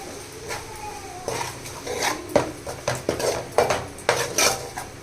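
A spoon stirs chili powder into Nellore-style fish curry in a pot, giving repeated metallic clinks and scrapes against the pot in an uneven rhythm, close and fairly loud.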